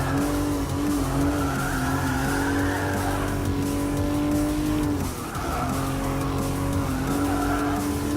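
A race car in Gran Turismo Sport corners uphill, its engine holding a loud sustained drone while tires squeal and skid continuously, with a brief dip in pitch midway before the engine note climbs again.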